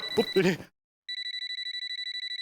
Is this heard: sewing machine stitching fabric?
no